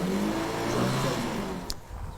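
A homemade car powered by a 150cc motorcycle engine revs with a steady mid-pitched drone, close and fairly loud, easing off toward the end.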